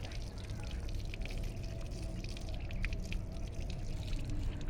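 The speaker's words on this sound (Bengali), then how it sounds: "সবগুলা ফোমই ধুয়ে ফেলছি" Motorcycle helmet foam padding being washed with water, a steady close pouring and trickling wash that runs continuously without pause.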